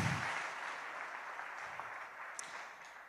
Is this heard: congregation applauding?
yes